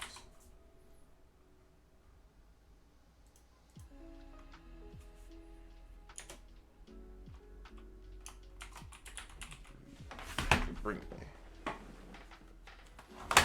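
Computer keyboard typing in a quiet room, with quick irregular bursts of keystrokes, moderately close, growing denser and louder toward the end with a few clacks and shuffles.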